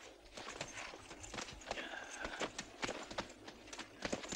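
Horse hooves clip-clopping in a Western film, a quick irregular run of hoof beats at moderate distance, fairly faint over a soft background.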